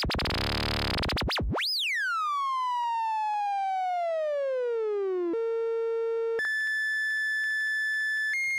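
The sine wave LFO output of a PHENOL synthesizer sweeps as a pure tone, first fast warbling, then gliding smoothly downward in pitch before stepping to steady held tones, clean and alone.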